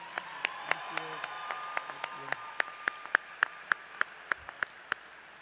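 Applause at a School of Law commencement ceremony, heard as faint, sparse, evenly spaced claps rather than a full crowd, with a voice and tonal hum underneath.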